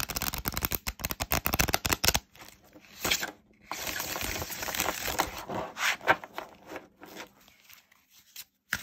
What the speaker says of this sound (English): Not difficult to riffle shuffle.